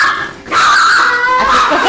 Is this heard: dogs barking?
yes